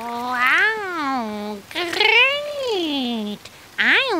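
A cat meows three times, the first two long and drawn out, the last short, close and clear with no other sounds.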